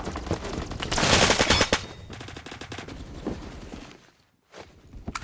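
Gunfire from a BFG-50 sniper rifle in Roblox Phantom Forces: rapid, loud overlapping shots with a dense burst in the middle. The firing fades briefly, then resumes at the end.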